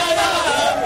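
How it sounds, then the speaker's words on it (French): A dense crowd cheers and chants outside a minister's residence, a loud, sustained mass of voices in a brief burst. "Ce sont les ovations d'un peuple à son ministre de la communication et médias"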